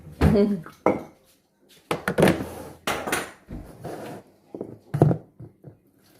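Kitchen utensils and a garlic press clatter and clink in bursts against pots and dishes during home cooking, with short gaps between handling sounds and moderately close, fairly loud knocks.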